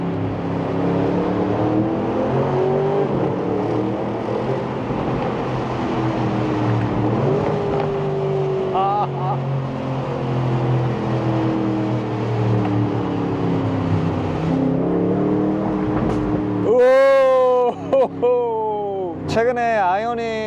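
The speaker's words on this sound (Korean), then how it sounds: "모든 RPM에서 매 순간 우리를 즐겁게 하는 이 보글보글거리는 V8 사운드" A handmade Aston Martin roadster's V8 burbles steadily through a tunnel, a deep rumbling exhaust that swells and falls with revs, then flares into sharp, loud throttle blips near the end, with no one talking.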